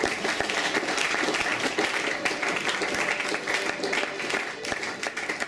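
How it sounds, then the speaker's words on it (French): A church congregation applauds and cheers for the Lord during a worship service, a dense, steady wash of clapping and crowd noise that holds loud and continuous throughout. "Alors que nous acclamons pour le Seigneur."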